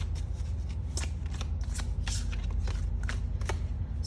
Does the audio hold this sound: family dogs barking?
no